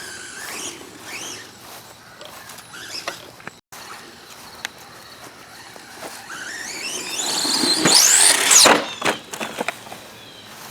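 A Volcano EPX RC truck fitted with a GoolRC 3800KV motor on 2S runs nearby, its high motor whine rising and sweeping in pitch toward a loud peak near the end, with squealing, chattering tones alone.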